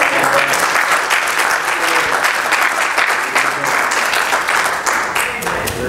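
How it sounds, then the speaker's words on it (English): A church congregation claps its hands in praise during a Sunday sermon, giving steady, loud, dense applause that fills the whole stretch with no spoken words. "Give God a hand clap of praise today."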